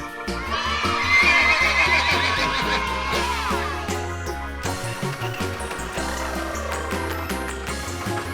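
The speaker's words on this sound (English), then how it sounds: "Horse." A horse from a farm-animal toy diorama neighs loudly and clearly, a long wavering whinny followed by a second, shorter neigh over a low rhythmic backing.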